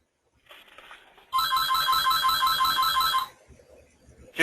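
A mobile phone rings loudly during a presentation, a bright repeating electronic ringtone lasting about two seconds after a quieter lead-in, then cutting off abruptly.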